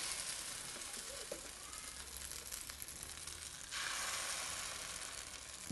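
Spinach pancake batter hits a hot frying pan and sizzles continuously, a bright, steady hiss that grows fuller partway through as more batter spreads across the pan.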